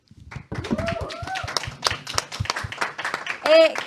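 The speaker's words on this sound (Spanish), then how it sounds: "el productor Rolando Tobit, para quien también pido un fuerte aplauso," An audience gives a round of clapping during a faith-themed program, a light scattered patter with voices talking over and around it.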